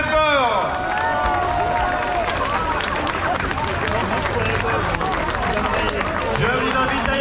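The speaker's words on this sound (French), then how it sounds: "On peut les applaudir très très fort" A crowd at an outdoor political rally at place Denfert-Rochereau, Paris, claps and cheers in a steady, dense wash of applause, while a voice speaks over a loudspeaker and people chatter throughout.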